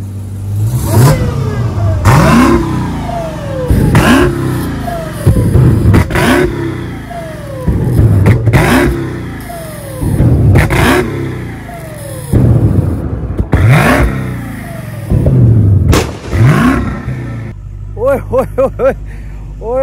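A modified car engine, fitted with a flame-shooting exhaust, revs loudly and repeatedly in sharp bursts at close range. Excited voices talk and shout over the engine, and a higher-pitched whine appears near the end.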